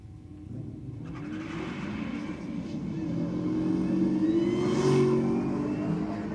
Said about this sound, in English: You hear that whine of the supercharger.